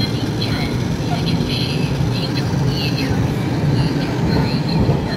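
Fuxing-class passenger train hauled by an E200-series electric locomotive with eight cars, heard as a steady loud rumble of rolling wheels and carriages passing close by, with faint squeals and talk over the noise.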